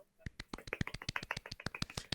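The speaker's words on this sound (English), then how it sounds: "Golf clap for ourselves." A few people give a soft, polite golf clap, with a steady stream of light, crisp claps lasting about two seconds and no speech.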